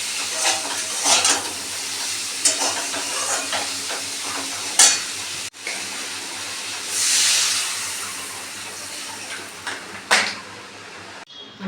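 Tangra fish curry with cumin powder is stirred in a hot pan, making a sizzling, hissing fry with scraping strokes of the spoon. A louder rush of steam and hiss follows partway through as water goes in. Nobody speaks.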